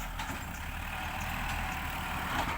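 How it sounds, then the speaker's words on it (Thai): Heavy farm tractor working across the road near a dirt-filled roadway, a steady low engine drone carrying on throughout at moderate distance, with no voices. "รถไถทำอะไรเนาะฝั่งนู้น"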